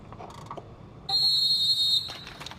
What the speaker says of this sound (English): Riders ready on my whistle!